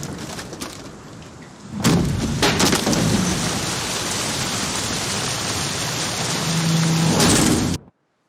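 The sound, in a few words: thunderstorm with rain in the video game The Witcher 3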